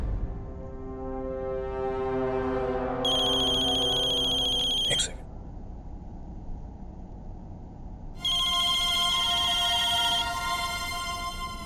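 A phone rings in a Hindi TV drama scene, two loud electronic ringtone bursts separated by a pause, with a short spoken line between them.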